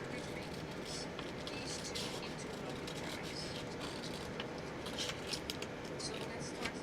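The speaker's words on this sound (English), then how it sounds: "So you're going to cut it across here." Scissors cut across a paper junk mail envelope, giving a faint, continuous crisp snipping and rustling close by, mixed with low background noise and occasional soft clicks.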